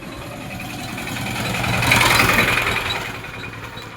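A 2014 Swaraj 841 tractor, roughly 45 horsepower with oil brakes and double clutch, idles nearby with a steady low rumble that swells a little louder in the middle before easing back down.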